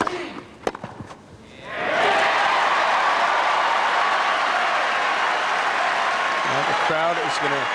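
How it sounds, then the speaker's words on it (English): The crowd at the 2001 Wimbledon men's final between Ivanisevic and Rafter erupts into sustained, roaring applause after a sharp ball strike. The applause swells and holds for several seconds, and a commentator's voice is heard near the end. "Crowd is going to erupt big time."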